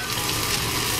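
A burger patty cooks in a pan on a backyard barbecue, giving a dense, steady sizzle that stays loud and even throughout, close by with no talk.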